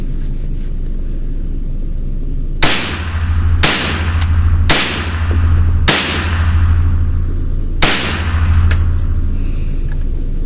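Five loud, sharp unsuppressed rifle shots from a Ruger 10/22 firing Federal 333 .22 rounds, spaced about a second or two apart outdoors, each crack followed by a brief ringing decay.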